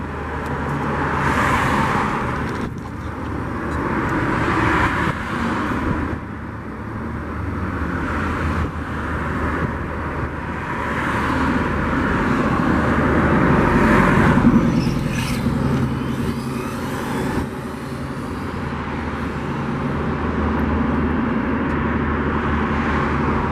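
An HPI Flux Porsche 1/10 scale brushless electric RC car makes speed runs in Granada Hills, its whooshing passes swelling and fading repeatedly over a background of road traffic.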